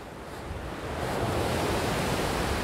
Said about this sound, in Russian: Ух, порывы ветра такие нешуточные.